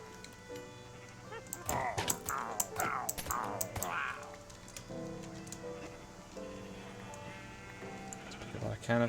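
Minecraft sheep bleat in a quick run of several wavering cries, then game sounds continue with a person talking over them.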